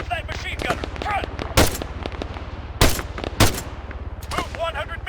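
Automatic weapon fire in the military shooter ARMA 3: a steady, rapid rattle of machine gun rounds runs throughout, punctuated by several louder, heavier shots, while soldiers shout over the gunfire.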